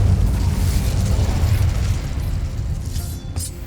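A loud, sustained fiery blast from the Incendio spell in the Hogwarts Legacy video game, roaring steadily for several seconds with no talk over it and easing slightly toward the end.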